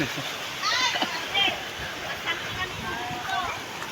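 Floodwater rushes and splashes steadily past houses in Mindanao, a continuous close wash of moving water with voices talking over it.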